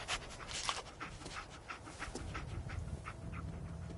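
Steady rapid panting from the dog Dogmeat in Fallout 4, close and continuous, with a few brief whimpering breaths over a low ambient bed.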